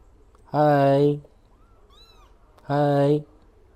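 Two separate meows from 21-day-old male kittens, each about half a second long, loud and close with silence between them.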